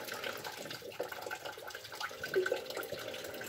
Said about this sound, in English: You'll see water will keep coming out of there